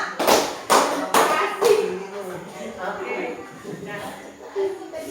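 A class claps a rhythmic counting routine, with a few sharp group claps at the start followed by softer, sparser claps under a voice speaking over them.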